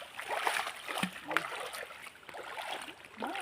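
Rushing water from a river waterfall, a steady broadband roar that stays close and fairly loud throughout, with splashy surges and a few brief voices mixed in.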